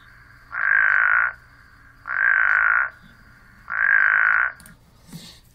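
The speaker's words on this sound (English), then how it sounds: "this really sort of robotic snoring." A spadefoot toad gives three loud, evenly spaced calls, each a sustained, buzzy, robotic snore lasting under a second, with quiet pauses between them and no voices.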